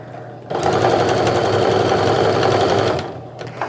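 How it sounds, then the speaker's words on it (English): A sewing machine runs steadily for about two and a half seconds, stitching reinforcement along the top of a fabric sling bag with many pockets. It is close and loud, with a brief quiet moment before and after. "I'm going to go ahead and reinforce the stitches to get started."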